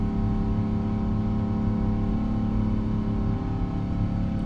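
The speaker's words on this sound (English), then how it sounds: "So those engines screaming at us." Boeing 777-200ER jet engines roar steadily during the climb, a loud, continuous low rumble with a droning tonal hum, heard close from the cockpit with no talk.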